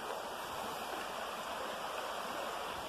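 A river flows steadily near Holmfirth on a summer day, a continuous broad rushing wash of water that stays loud and even throughout with no voices.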